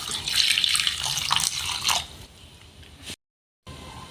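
Water pours from a tap or jug into a pot of chopped raw mango and slit green chillies for Kerala pulissery, a bright splashing stream for about two seconds that tapers off, then brief silence.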